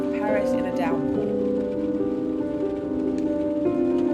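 Heavy rain pours down over Paris along Boulevard Raspail, a steady dense hiss that runs through the whole stretch beneath sustained tonal music-like sounds.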